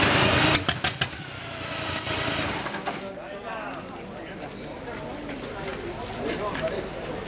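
A Lyndwood dragster engine is warmed up at a drag racing reunion, opening with a few sharp revs and then settling into a rough, throbbing idle while people talk nearby.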